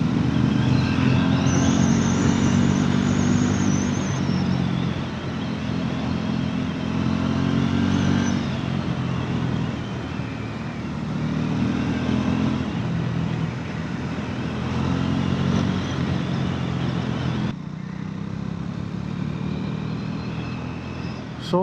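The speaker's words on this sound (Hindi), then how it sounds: "40-50 किलोमीटर बाइक चला रही है पहाड़ों में" Motorcycle riding along mountain roads on a solo trip toward Kedarnath, a steady engine drone with wind rush, moderately loud and continuous, with a brief shift in tone near the end.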